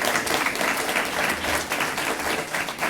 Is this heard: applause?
yes